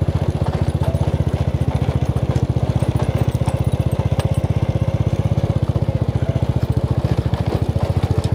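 Motorbike engine running steadily on a rocky, gravelly hill trail near Da Lat, a close, loud, even pulsing throb that continues without pause.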